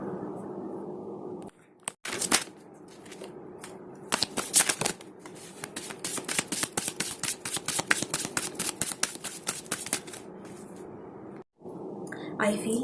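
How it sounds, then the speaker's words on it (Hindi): Tarot cards shuffled by hand in rapid riffling bursts, close and crisp, with brief pauses between runs and someone speaking quietly over them. "पहले मैं कार्ड्स को शफल करूंगी।"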